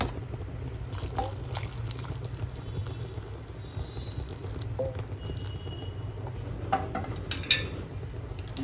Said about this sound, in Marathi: आता आपण ह्याच्यामध्ये गरम पाणी टाकूया